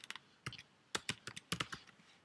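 Quiet computer keyboard typing in short irregular bursts of clicky keystrokes, close by, with no speech.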